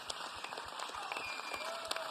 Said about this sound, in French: Je pense qu'on peut les applaudir 1000 fois